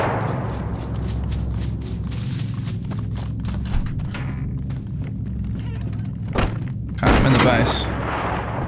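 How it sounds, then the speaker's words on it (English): In DayZ, sniper rifle shots crack near the player's base, a few dull distant-sounding bangs and thumps spaced apart, with someone talking over them throughout. "They're letting off loud snipers near our base"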